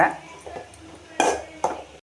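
A utensil stirs egg podimas with rice in a pan, giving a few sharp metallic scrapes and clinks at irregular intervals, close and distinct.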